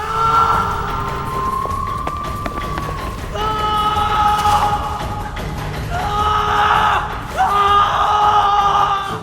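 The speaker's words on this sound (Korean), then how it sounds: "나미는 도망치는 내내 고함을 지르기 시작합니다." A character in a Korean historical archery film screams and yells while fleeing on foot, with loud, drawn-out cries in several bursts over running sounds and commotion.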